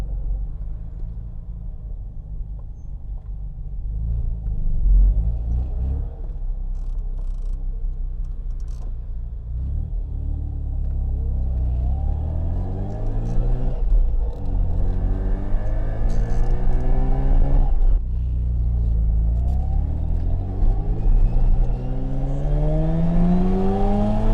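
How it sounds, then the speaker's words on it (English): A Mazda RX-7 rotary engine with a newly installed fuel pressure regulator idles with a deep, steady rumble, its pitch rising and falling in several brief revs. "It's idling pretty good right now."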